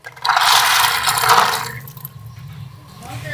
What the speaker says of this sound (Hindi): पानी आपने हस्बे ज़रूरत डाल देना है। हम ये सारा ही डाल देंगे ताकि ये अच्छी तरह से गल जाएं।